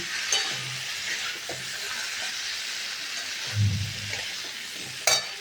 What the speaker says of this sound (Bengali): কলাটা দিয়ে ভালো করে কষে নেব